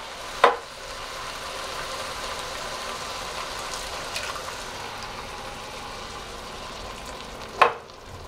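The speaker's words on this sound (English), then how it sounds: "You can hear immediately the pan stops sizzling as much." Two cans of diced tomatoes hit a hot chilli pot, giving a steady, moderate sizzle and bubbling hiss with two sharp clanks of a utensil near the start and end.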